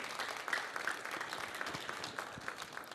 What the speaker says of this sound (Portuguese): Aplaude o Senhor.